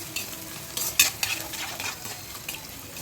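Onions with salt sizzle in a hot pan while a utensil stirs and scrapes against the metal, with a few sharp clinks, close up and without voices.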